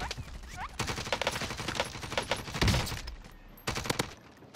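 Rapid bursts of gunfire in the video game Warzone, dense overlapping shots in several volleys, loud and close with short gaps between them.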